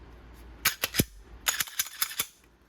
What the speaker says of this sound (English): we'll slide the slide on